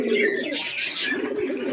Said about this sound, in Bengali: এখন পায়রা মোটামুটি হয়েছে